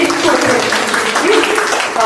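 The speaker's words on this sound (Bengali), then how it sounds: "জোরে একটা হাততালি হয়ে যায়।" Loud, sustained audience applause fills the hall at a Purulia Chhau-region reality show, a steady wash of clapping with voices mixed in throughout.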